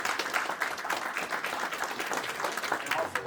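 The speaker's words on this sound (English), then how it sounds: "Let's give him a round of applause." An audience at a Greenbrier County Republican Executive Committee meeting gives a steady round of applause, dense clapping running continuously at moderate volume from start to finish.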